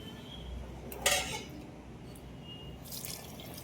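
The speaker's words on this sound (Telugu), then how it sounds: "6 గ్లాసులు వాటర్ పోసుకుందాం." Water poured from a glass into a pot holding rice and moong dal for khichdi, heard as a couple of brief splashing bursts against a faint kitchen background, with no talking.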